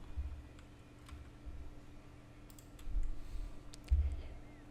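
Faint, light clicks of typing on a computer keyboard, a few sparse keystrokes and small clusters at close range over a quiet, low background hum.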